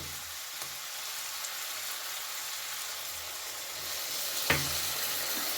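A splash of water hits potatoes, onion stalks and mustard paste frying in a pan, a steady close sizzle with a sharp burst near the end as the liquid lands.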